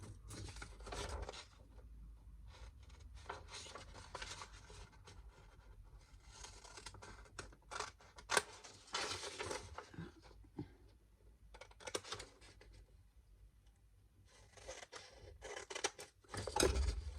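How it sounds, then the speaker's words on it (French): Scissors snip repeatedly through paper while two rectangles are cut out for a party photo holder, a steady run of close, crisp cutting strokes with brief pauses and a louder snip near the end. "On va découper ces 2 rectangles, le premier et le deuxième."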